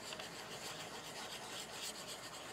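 Close, steady rasping of a bone folder rubbed back and forth over a paper transfer laid on a carving block for a dahlia stamp, continuous and even throughout with no talking.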